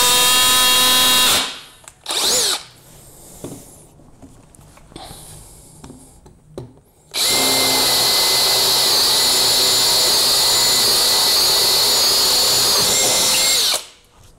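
A cordless drill whines loudly in two bursts, the second a long steady high-pitched run boring a Stinger Power Bit into a pine stud, separated by quieter handling noises.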